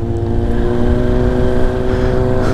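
A 2018 Kawasaki motorcycle engine on a test ride, either a Ninja 400 or a Z900RS Cafe, runs with a loud, steady drone. It holds an even tone for the whole stretch with no talk over it.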